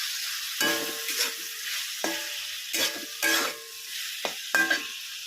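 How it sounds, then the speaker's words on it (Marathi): Potatoes sauté in a pan for a fenugreek and potato dish, with a soft steady sizzle broken by several distinct scrapes and clinks of a spatula stirring against the pan. "आता आपण यामध्ये बटाटा टाकून घेतलेला आहे तर तो आपण छान असं मिक्स करून त्याला छान परतून घेणार आहोत"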